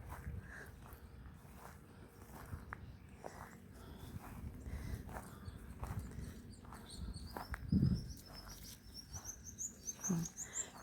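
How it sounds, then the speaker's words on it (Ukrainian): Small birds chirp faintly in the distance outdoors during a spring walk, with thin high tweets coming in later over steady footsteps and rustling close by. "птички цвірінькають"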